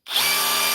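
A power drill switched to chisel mode starts abruptly and runs loud and steady, a bright rattling hammer-drill whine that continues without a break.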